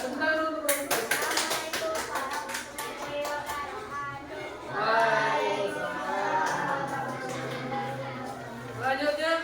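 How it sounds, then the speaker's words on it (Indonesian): Classroom applause for a student group during an electricity lesson, steady clapping from the whole class for several seconds, with voices chattering over it toward the end. "Tepuk tangan untuk kelompok Raisa."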